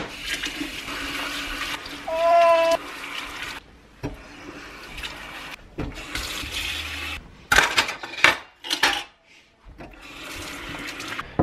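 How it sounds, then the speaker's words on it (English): Tap water running during handwashing in a sink, a close splashing flow that starts and stops in uneven bursts, with brief handling clatters between. "Another thing, I wash my hands a lot."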